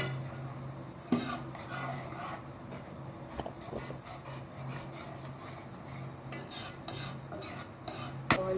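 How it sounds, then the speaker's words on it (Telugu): A spoon scraping and clinking in a pan while egg yolk is stirred through egg fried rice, giving a steady rasping with several sharper knocks, close and moderately loud, with no speech. "ఈ ఎల్లో సొన కదా అది ఇది మొత్తం మిక్స్ అయ్యేలాగా బాగా కలపాలి"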